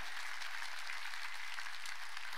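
A church congregation claps during a service, a brief, dense, steady burst of clapping that fills the room evenly without pause.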